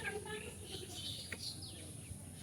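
Birds call outdoors on an overcast day after rain, with faint, scattered chirps and short tweets over a soft, quiet background.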